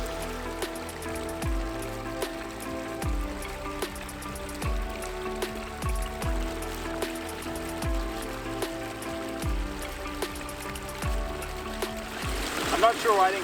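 Water from a garden pond waterfall runs steadily with splashing and trickling, under a repeating background pulse, close and continuous without talk.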